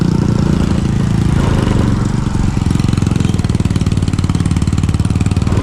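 A borrowed motorcycle, belonging to an uncle named Dan, runs steadily with a close, loud, continuous engine drone and a rough mechanical chatter that holds throughout without a break.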